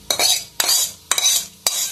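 A utensil stirs and scrapes fried grated coconut in a pan. Four distinct, loud scraping strokes land close by at a steady rhythm.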